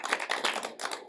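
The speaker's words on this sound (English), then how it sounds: "Oh, that's clapping." Audience applause fills a room at a writing event, dense and steady across the whole second with no pauses, fairly loud and close, with no voices over it.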